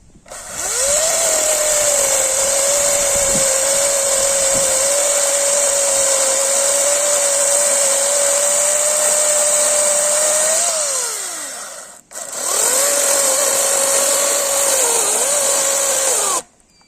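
A ProCraft cordless saw cuts through a wooden stick: a loud, steady whine runs for about ten seconds, winds down, pauses briefly, then starts again for another few seconds before stopping.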